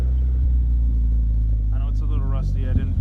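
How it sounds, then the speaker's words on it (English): Honda CD5 car with a Vibrant blast-pipe exhaust idling with a deep steady rumble after a cold start, while someone talks over it in the second half. "Get in the car and rev it"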